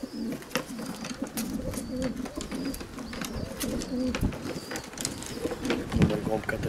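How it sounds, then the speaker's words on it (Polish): Black pigeons of the De Laat line coo in a loft, low murmuring calls repeating steadily throughout amid faint clatter, with someone talking over them. "Ładny gołąbek, taki wyrywny, piękny ptak."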